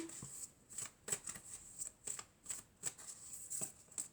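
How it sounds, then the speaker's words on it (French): Oracle cards being shuffled by hand, a steady series of crisp riffling bursts repeating roughly every half second, close and fairly quiet with no talk. "je vais prendre quelques cartes de l'oracle de la triade"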